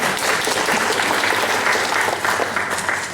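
A dense wash of audience applause, loud and continuous, with many hands clapping together at an even level throughout.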